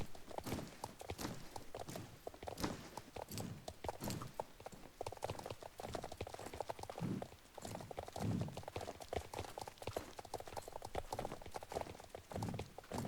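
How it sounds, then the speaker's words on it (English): Rhythmic clip-clop hoofbeats of a North Swedish horse at a slow gallop in the Star Stable video game, steady and fairly close, running throughout with no talk. "Slow gallop looks excellent as well."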